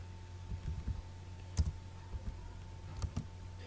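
GW-BASIC code is typed on a computer keyboard as scattered, uneven clicks and taps, fairly quiet, with a low steady hum underneath.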